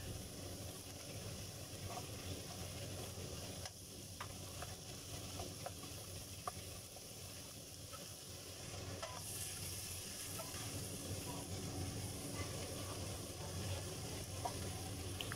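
Onion frying in a pan while cooking crispy noodles with shrimp, a continuous soft sizzle with occasional stirring scrapes and light bubbling, close and fairly quiet.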